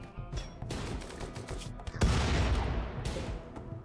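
Gunfire from a shootout in RimWorld, bursts of sharp rapid shots crackling on and off with one heavier blast near the middle, a moderately distant, layered exchange of fire.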